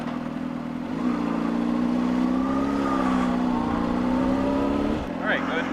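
A motorcycle engine runs at a steady idle before a skills test, a constant low hum that rises slightly in pitch midway, close by, then drops off near the end.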